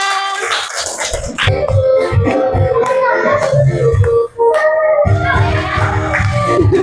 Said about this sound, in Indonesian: Tepuk tangan buat Mbak Nada.